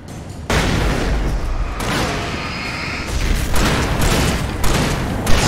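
A flashbang and gunfire in the video game Alan Wake: a sudden loud burst gives way to sustained dense roaring noise with further blasts and rattling shots layered over it, close and heavy.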